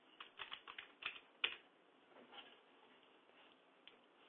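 Quiet clicking of computer keyboard keys as a short command is typed, in irregular taps with a louder keystroke midway and a few sparse clicks after.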